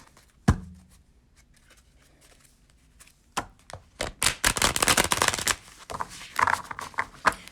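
Tarot cards are handled: one crisp tap, a lull, then a dense flurry of riffling and snapping as the deck is shuffled and cards are pulled. The sound is close and has no talk over it.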